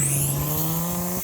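A cheap turbocharged Jeep accelerates on snow with wheels spinning, its engine note rising steadily in a loud, close rev over about a second.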